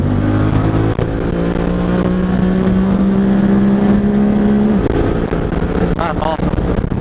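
Honda Talon UTV engine revs up steadily in the cab, then drops briefly at a gear shift near the end before pulling again, loud and continuous, with road and mud noise around it.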